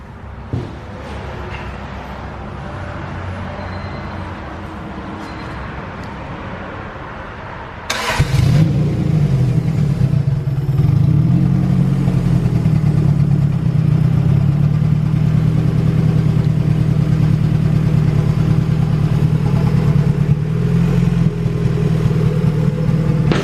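A turbocharged Honda B18C1 in a Civic Si, running on an OBD1 idle air control valve, cranks and fires about eight seconds in. It then settles into a loud, close idle that wavers unevenly.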